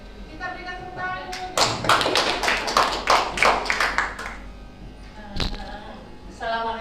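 A classroom audience of teachers claps together in a burst of about three seconds, fairly close and lively, with spoken voices before and after the clapping.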